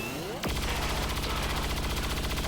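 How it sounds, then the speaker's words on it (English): A soldier's weapon fires during an XCOM battle on a Stun Lancer: a loud, close burst of rapid automatic gunfire starts abruptly after a brief lull and runs on continuously with no speech. "Kat decided to advance and lay some fire down on that Lancer"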